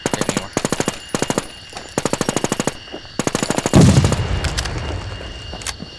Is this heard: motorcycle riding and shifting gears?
no